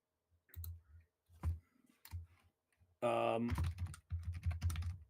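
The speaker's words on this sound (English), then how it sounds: "as I'm typing this one out" A computer keyboard clatters in quick bursts of key presses with short pauses between them, close and fairly loud, with a brief tonal sound mid-way.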